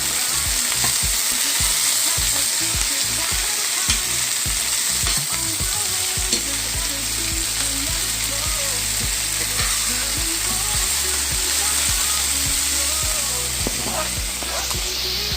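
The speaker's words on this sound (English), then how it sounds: "So I'm gonna saute them, guys." Fish for Jamaican escovitch sautés in a pan with a loud, continuous sizzle, while a steady low musical backing plays beneath it throughout.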